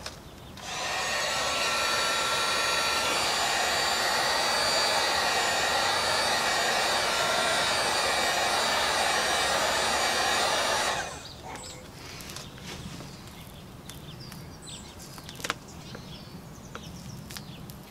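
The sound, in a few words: heat gun heating car door acoustic treatment material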